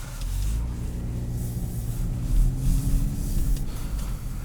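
A 2017 Buick Regal GS with all-wheel drive and a 2-liter turbo four on stock exhaust drones with a steady low engine rumble heard from inside the cabin, swelling slightly midway as it pulls.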